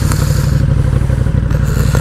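A Harley-Davidson motorcycle rumbles loudly and close on the road, a deep, continuous throbbing engine note with steady low pulses and heavy wind noise throughout.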